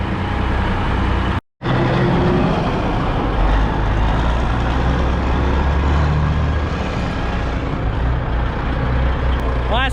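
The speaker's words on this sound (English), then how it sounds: "We got our Freightliner with our dump trailer." A Freightliner truck pulling a dump trailer hauling beans at a grain elevator: a loud, continuous engine rumble close by, with one brief dropout and a rising whine at the very end.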